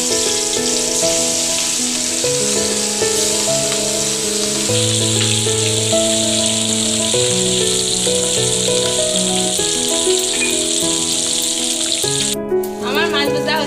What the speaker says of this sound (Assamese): আমি এতিয়া কেৰাহীত মাছখিনি দি দিম।